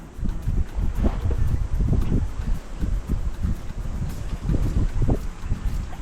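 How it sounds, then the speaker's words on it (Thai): Strong wind on an open fishing spot buffets the microphone in a constant loud roar with gusty surges throughout, and no voices are heard. "ลม แรงมาก นะ ครับผม"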